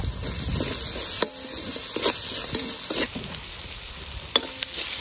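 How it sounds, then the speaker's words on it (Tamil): Onions with salt sizzle in a pan, and a utensil stirs them with a few sharp scraping knocks over the steady frying hiss, nearby and without speech. "இப்படி இதை நல்லா மிக்ஸ் பண்ணி வதங்க விடுறா"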